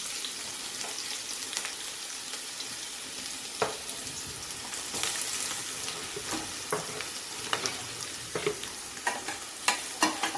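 A large onion fries in a pan with curry leaves for green masala chicken, giving a continuous soft sizzle broken by scattered sharp scrapes and clicks of stirring, close and with no talk.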